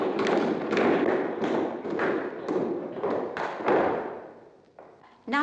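Wooden clogs stamp and pound in quick rhythmic bursts as a team of clog dancers in Portmadoc, Wales performs, loud and close, with the pounding easing off near the end.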